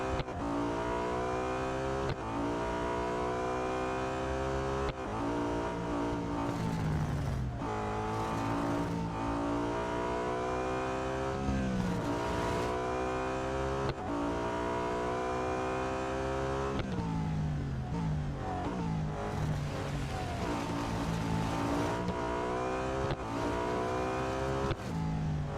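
Racing engine of a BMW M3 GTR in Real Racing 3 at Spa-Francorchamps, a loud continuous roar that climbs and drops through repeated gear shifts, with brief dips between revs and no talk over it.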